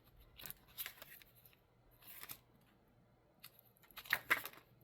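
Scissors snip through paper in several short bursts, a couple of quick cuts followed by a pause and then more, close and fairly quiet against a soft steady hum.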